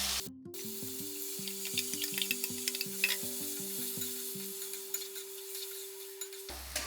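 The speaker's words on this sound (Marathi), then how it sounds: "तर व्यवस्थित आपल्याला चिकन जे आहे ते परतून घ्यायचं आहे" Marinated chicken for a quick biryani sautés in a pan, sizzling steadily while a spoon stirs and scrapes it in repeated bursts.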